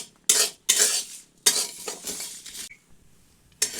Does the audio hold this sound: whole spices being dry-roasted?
yes